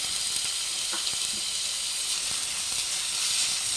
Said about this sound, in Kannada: ಈರುಳ್ಳಿ ಚೆನ್ನಾಗಿ ಫ್ರೈ ಮಾಡ್ಕೊಳ್ಳಿ